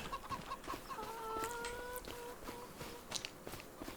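Chickens on a farm in the video game Farming Simulator 25 cluck and squawk in quick, uneven bursts, several birds close together over a steady ambient background, with no talking.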